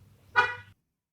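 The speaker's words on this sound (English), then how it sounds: "particularly when I'm jumping down, I hit a car honk" A single short car horn honk from the video game Fortnite, bright and fairly loud, over a low engine hum that cuts out abruptly as the honk fades.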